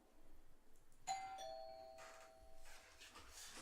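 A doorbell chimes once in a quiet room, a clear two-tone ding-dong with a ringing tail, faint and alone without talk.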